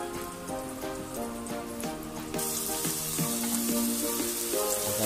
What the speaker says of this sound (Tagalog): magpapainit na tayo ng mantika. Ilagay ang sibuyas. Saute lang natin ng mga 3 to 5 minutes.